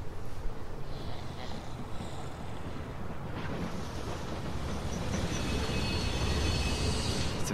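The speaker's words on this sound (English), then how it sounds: "C'est vachement cool de se déplacer en train pour une invasion zombie." A train travels steadily in The Walking Dead video game, producing a continuous rumbling, windy roar that slowly builds louder, with no talking.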